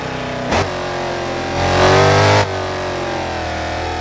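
A Mercedes C63 AMG W204 V8 in the Assetto Corsa racing game drones loud and steady, with a sharp blip early on and a rising rev that surges then drops back to a constant engine note.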